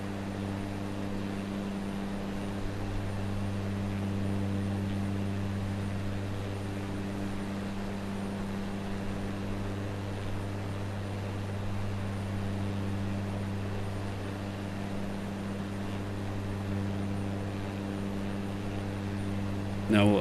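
Cessna light aircraft engine drone in Microsoft Flight Simulator 2024, a steady low harmonic hum held evenly throughout at moderate level, with a brief burst at the very end.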